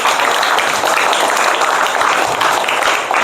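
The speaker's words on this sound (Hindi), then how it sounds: "तो एक बार जादू के लिए जोरदार ताली बजाया जाए" An audience gives loud, dense applause for a science magic trick in which water rises up inside a glass, the clapping sustained and close for the whole moment.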